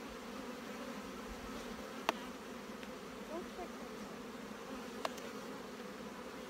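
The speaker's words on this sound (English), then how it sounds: "Both sides, lots of bees." Honeybees buzzing in an open hive during a frame inspection, a faint, steady hum close by with a couple of sharp clicks, no voices.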